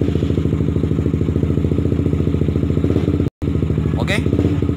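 A Suzuki GSX-R150 motorcycle engine runs close by, started without its keyless remote, with a steady rapid idle pulse throughout, a brief cut near the end, then a short rev.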